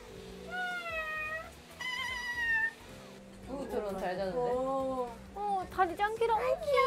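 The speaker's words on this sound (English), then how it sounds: "Sleepy kitty." Kittens meow repeatedly in drawn-out, high-pitched cries over a background hum, with people talking in between the calls.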